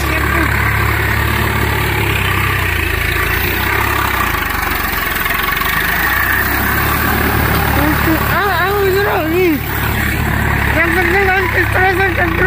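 A tractor engine idling and chugging steadily during a village Holi celebration, with people talking over it and a brief warbling tone near the end.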